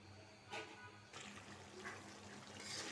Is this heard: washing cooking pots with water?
yes